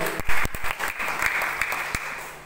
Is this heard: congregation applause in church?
yes